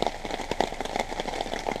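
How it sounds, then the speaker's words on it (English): Rain patters steadily on a camping shelter, a dense, even hiss of drops with scattered sharper taps, close and continuous without any talk. "raindrops are falling on our head"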